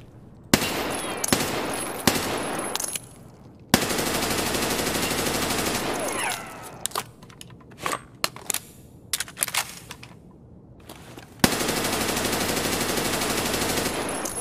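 A G36 rifle in Escape From Tarkov fires in burst mode: loud, close volleys of rapid shots, some long and sustained, others short clipped bursts separated by brief pauses.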